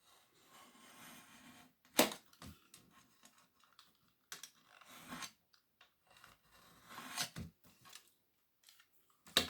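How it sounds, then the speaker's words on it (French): Scissors trimming excess paper, close and quiet, a few sharp snips and rustles scattered among near-silent gaps. "on va recouper le surplus de papier"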